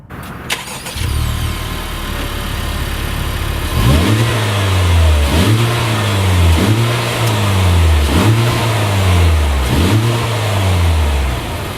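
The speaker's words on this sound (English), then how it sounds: "This car, as I mentioned, has 3 exhaust pipes, so you'd think it has some crazy, loud, cool sound." A 2017 Honda Civic Type R with a three-pipe exhaust starts up, idles briefly, then is revved five times in a steady rhythm, each rise and fall loud and close with no talking.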